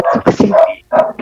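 A dog barks at a visitor at the door, three or four close, loud, whining yelps in quick succession.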